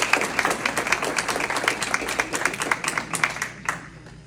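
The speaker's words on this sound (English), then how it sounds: "Let's give Chris a round of applause." Applause from the audience at an American Legion post law and order awards ceremony, a fairly dense patter of many hands with a few sharper claps standing out, tapering off near the end.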